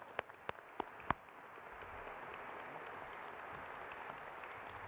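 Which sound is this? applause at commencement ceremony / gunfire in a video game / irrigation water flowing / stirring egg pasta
applause at commencement ceremony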